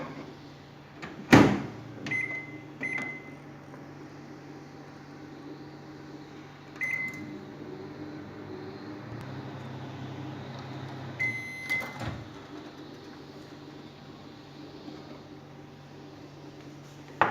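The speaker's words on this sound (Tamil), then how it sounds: "இப்போ இதை ஒரு பச்சை வாசனை போகிறதுக்காக ஒரு 2 நிமிஷம் இதை வைக்கலாம் நம்ம மைக்ரோ ஹையில்." A microwave oven running on high while heating spinach for palak paneer, a steady faint hum with a few beeps and a door clunk, heard alone.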